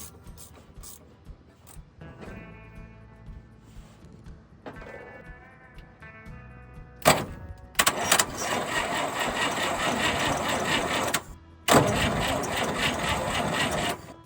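A 1958 Chevrolet Apache truck's engine cranks on the starter after a quiet stretch of clicks and hum, then turns over loudly and steadily for several seconds, breaking off briefly before grinding on again.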